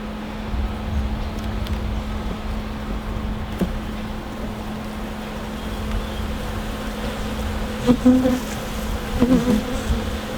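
Honey bees buzz steadily around an open hive during a pre-winter check, a continuous close drone with a few louder bursts as bees pass near.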